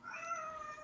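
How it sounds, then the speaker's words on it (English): A house cat gives a single short, faint meow indoors, rising then trailing off, with no talk over it. "That was my cat."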